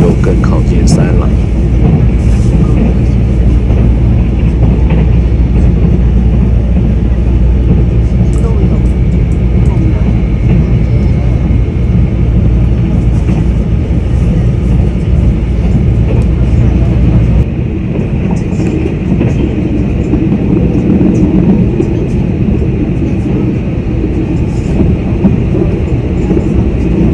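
A train runs steadily along the mountain railway line between Taipei and Hualien, passing through Yilan's Dongshan area, a loud continuous rumble and rushing roar that drops slightly in weight partway through, with no one talking.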